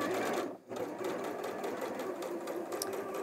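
An Elna 780+ sewing machine stitches straight lines on fabric, running at a steady fast hum and needle chatter with a brief stop near the start, close and continuous.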